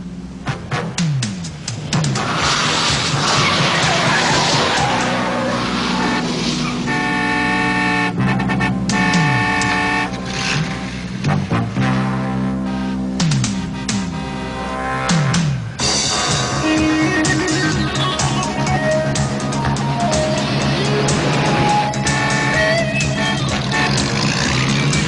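Car horns honk repeatedly and loudly during a car chase, with long sustained blasts over a busy, continuous roar of traffic and engine noise, with no talking.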